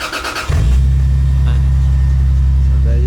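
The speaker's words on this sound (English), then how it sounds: "I haven't started in about 3 days, so this is a natural cold start, and this is how easy she starts." A Toyota Supra cold start after sitting for three days: a brief cranking, then the engine catches and settles into a steady, loud, low idle rumble heard close up.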